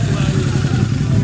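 Harley-Davidson motorcycle engine running up close with a loud, steady low rumble and throb throughout, without distinct rev peaks.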